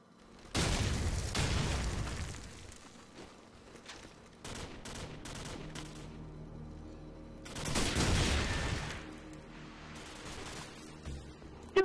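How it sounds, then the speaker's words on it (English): Gunfire in Call of Duty 4: loud bursts of automatic fire and shots in two main clusters, with scattered pops and reports between them during a multiplayer match. "I was shooting him in the head"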